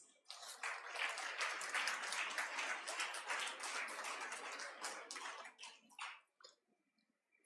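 A convocation crowd of graduates breaks into sustained clapping, a soft, distant roar of many hands that thins out and stops near the end.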